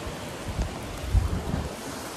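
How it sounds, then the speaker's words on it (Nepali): Rain pours over a barbecue camp area in Japan as a steady, broad outdoor hiss with gusty low rumbles and a few louder swells, and no voices. "बारबेक्यू ठाउँमा चाहिँ पुरै अहिले पानी पुरै परिरहेछ"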